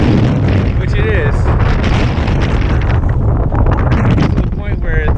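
Heavy wind roars and blasts against the microphone nonstop while cycling on a road in Nicaragua, loud and rough, with faint brief tones poking through the noise.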